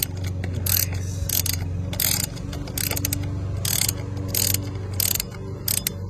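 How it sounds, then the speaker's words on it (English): A hand ratchet clicks in repeated short bursts while a 10mm bolt is driven into the intake of a 2021 VW GLI, crisp and close over a low steady hum. "It is 10mm bolt that we're going to screw in there."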